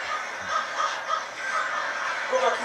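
Many crows cawing and calling together in a tense fantasy TV drama scene, a dense, continuous flock chorus with repeated harsh calls over a steady noisy background.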